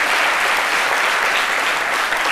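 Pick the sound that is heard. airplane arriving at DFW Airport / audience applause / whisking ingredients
audience applause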